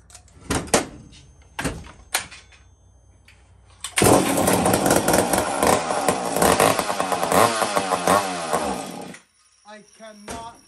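A rusty old chainsaw, long dead with no spark before repair, sputters through a few sharp pull-start attempts, then roars into a loud, revving run for several seconds before cutting out, with a couple of small knocks afterward.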